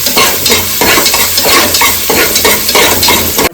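Chopped onions fry in hot oil for chicken kulambu, with a loud continuous sizzle up close and a rhythmic stirring scrape repeating roughly every half second.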